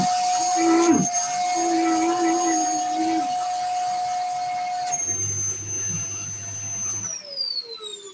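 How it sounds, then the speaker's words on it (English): A steady airy hiss with a high whistling tone, like air being drawn in through a narrow opening, continuous and close. "The air is definitely going in."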